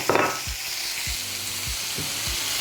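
Sprats frying in oil with chili flakes and turmeric powder, a loud continuous sizzle broken by rhythmic scrapes of a spoon stirring the pan, no talking.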